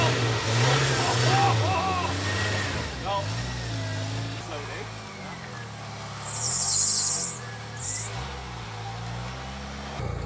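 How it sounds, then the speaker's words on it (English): An off-road vehicle crawls over a log on a trail near Kenyon Lake, its engine rising and falling in low revs. People talk over the engine, and a brief hiss breaks in partway through. "You drove right on the log."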